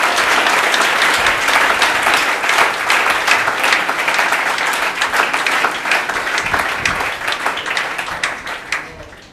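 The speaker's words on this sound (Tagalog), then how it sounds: "Isang malakas na palakpak para kay Lord." A church congregation gives loud, dense applause at a sermon gathering, a steady wall of clapping that holds strong throughout and tapers slightly at the end.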